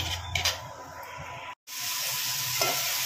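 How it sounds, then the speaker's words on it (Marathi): Masala frying for a mixed vegetable curry, a steady close sizzle with spoon stirring scrapes, briefly cut to silence midway before the hiss resumes. "हा मसाला चांगला फ्राय करून घेते."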